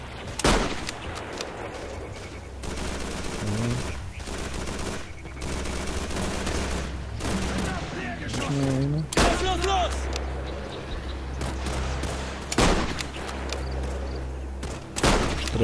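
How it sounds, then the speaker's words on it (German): Gunfire in the Call of Duty 3 video game on Xbox 360, sharp repeated shots and bursts across the clip with loud sudden peaks, mixed under continuous game sound and voices talking. "Schuss"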